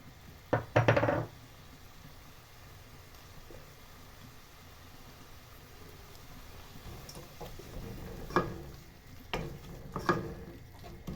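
Minced beef stirred in a pan for spaghetti Bolognese, a soft continuous sizzle under intermittent sharp clinks and scrapes of a utensil against the pan, loudest near the start and again toward the end.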